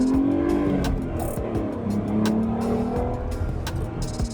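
A 2000 BMW Z3 is driven with a steady, loud engine note that rises and falls, plus tire and road noise heard from close inside the car.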